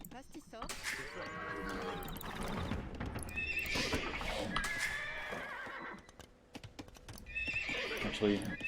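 Horses in the Age of Empires II strategy game give several whinnies and neighs over clip-clopping hooves, mixed with other livestock calls and game sounds, while someone talks faintly underneath.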